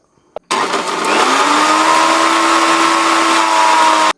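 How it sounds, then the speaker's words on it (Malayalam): An electric mixer grinder whirs into life after a brief click, blending hibiscus flowers, lemon and water into juice with a loud, steady motor whine that rises slightly in pitch and runs continuously to the end. "മിക്സിയുടെ ജാറിൻ്റെ അടപ്പെടുത്ത് ഇത് മൂടുക. എന്നിട്ട് നന്നായിട്ട് ജ്യൂസ് ആക്കുക."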